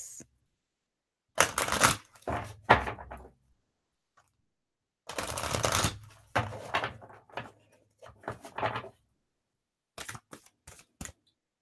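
Tarot cards are shuffled by hand up close in several bursts of crisp riffling and rustling, separated by short silences.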